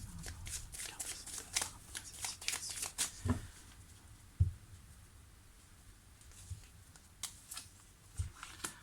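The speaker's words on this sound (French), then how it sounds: "Je retire une dernière carte." Tarot cards are shuffled in a rapid flurry of crisp riffles and flicks, then quieter single card slides and taps follow, close and soft, with a faint voice in the background.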